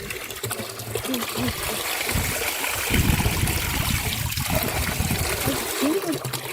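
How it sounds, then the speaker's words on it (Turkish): Ice-cold water runs steadily from a village fountain, a continuous close trickling and splashing that lasts throughout while a voice speaks over it. "Köyümüzün çeşmesi buz gibi buz gibi su akıyor maşallah."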